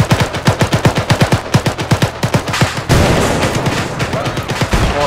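Automatic and rifle fire from a squad shooting together in the ArmA 3 military game, a rapid train of loud sharp bursts for about three seconds, then a heavier sustained fusillade with more scattered shots.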